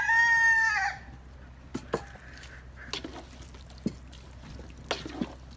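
A rooster crows loudly and close at the start, followed by scattered soft clucks and small knocks in a quiet yard.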